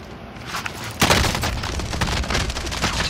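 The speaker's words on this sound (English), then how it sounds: "I am under fire!" Gunfire in the Warzone video game, with a dense, continuous barrage that turns sharply louder about a third of the way through and stays heavy and close to the end.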